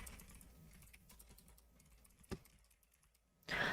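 Quiet tapping on a smartphone touchscreen keyboard while entering a document name in Polaris Office, a few soft clicks ending in a louder burst of taps, faint and close with no talk.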